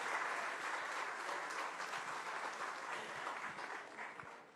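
A large crowd gives steady, sustained applause to welcome a spiritual guru guest, the dense clapping filling the whole stretch at an even level before easing slightly at the end.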